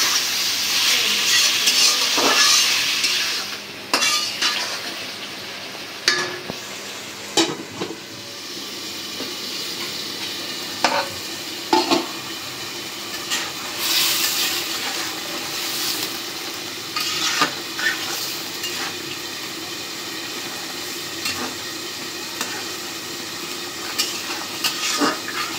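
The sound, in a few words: vegetable curry with gourd and potato stir-frying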